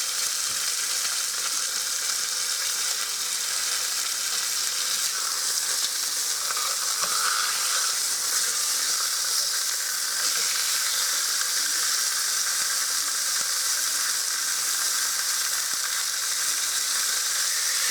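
Pork chops sear in a hot cast iron pan with a loud, dense, continuous sizzle and hiss that holds steady throughout, close up and without talk.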